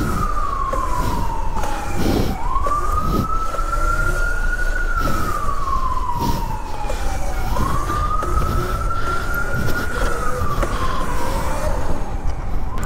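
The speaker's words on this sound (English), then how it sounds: "It's the sound of the police." Police siren wailing in slow, loud rising-and-falling cycles, about two full sweeps, over a steady low rumble of traffic and engine noise.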